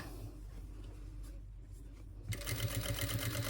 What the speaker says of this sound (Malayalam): ഇതുപോലെ മടക്കി കൊടുത്തിട്ട് സ്ട്രെയിറ്റ് ആയിട്ട് സ്റ്റിച്ച് ചെയ്തെടുക്കുക.